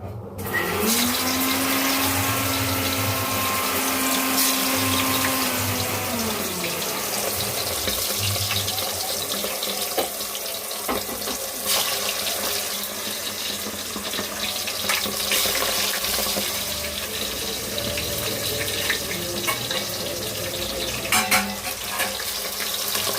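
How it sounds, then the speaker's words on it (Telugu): Korameenu fish pieces fry in hot oil with a continuous, close sizzling hiss and scattered crackles, and a brief mechanical hum is heard near the start. "చేపలు అయితే బాగా ఫ్రై అయినాయి"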